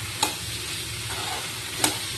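Green peas sizzle steadily while frying in a pan, with two sharp scrapes of a stirring utensil against the pan, near and clear.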